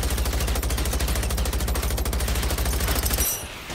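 An automatic rifle in Generation Zero empties a full magazine in one long, rapid, steady burst of loud shots that cuts off abruptly near the end, leaving a brief ringing tail.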